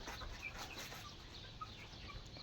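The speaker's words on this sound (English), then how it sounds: "Tapos yung aming chicken house. Ayan sila." Chickens cluck softly inside a chicken house, scattered short clucks and chirps over a low, steady background hum, faint and fairly distant.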